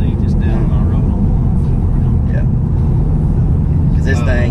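A manual 2018 Ford Mustang GT350 eases through curves, its steady, loud engine and road drone filling the cabin with no breaks.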